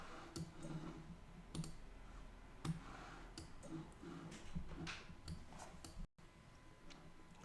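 A computer mouse is clicked repeatedly at an irregular pace, producing faint, sharp ticks over quiet room noise, with a brief dropout near the end.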